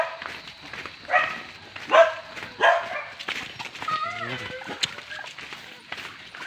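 A pet dog barks near a house, giving three or four distinct yelping barks early on followed by whiny vocal sounds, close and fairly loud.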